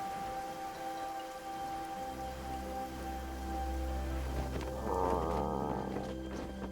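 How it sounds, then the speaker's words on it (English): Rain falls in the video game Act X: Truth Amongst the Pages of Purana as a soft, constant hiss, joined midway by a low rumbling drone and a brief warbling tonal swell, with no talk. "Oh, it's raining."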